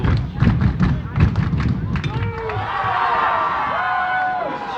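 Crowd at a high school varsity baseball game roars and whoops after a foul ball, with loud thumps and scattered shouts early, then sustained cheering that carries to the end.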